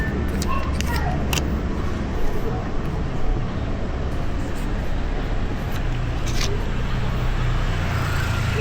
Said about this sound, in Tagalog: Ito ang parking ng Icor